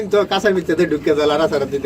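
Fancy pigeon babies for sale coo in close, loud, rhythmic bursts, the low throaty calls repeating quickly over a couple of seconds.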